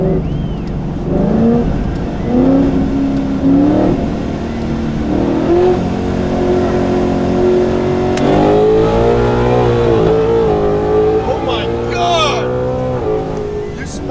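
A Camaro fitted with a Whipple supercharger accelerates hard with its tires spinning. The engine roars loud and near, its droning pitch climbing and dropping through repeated surges.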